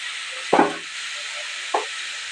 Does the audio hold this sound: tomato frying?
yes